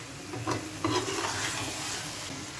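Potatoes and peas being stirred and sautéed in a pan, a soft steady sizzle with a few scraping strokes of the spoon early on, faint and close, no talking.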